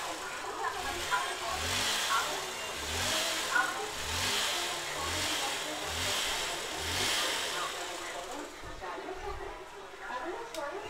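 A Hero CBZ Xtreme motorcycle engine, with its CDI coil bypassed, revs repeatedly in rhythmic surges, rising and falling several times at close range, then settles toward the end.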